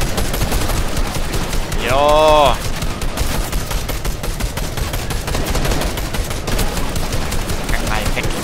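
Rapid gunfire in the video game Fortnite, a dense continuous rattle of shots running throughout, loud and close, with a brief spoken interjection and a short synthetic tonal sweep over it.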